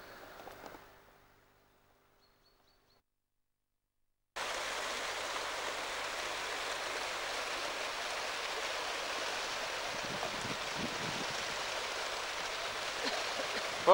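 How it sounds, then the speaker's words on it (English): A clear river flows past at close range, a steady broadband rush of moving water that starts abruptly after a few seconds of near silence and holds constant. "Let's go down and have a look at the river."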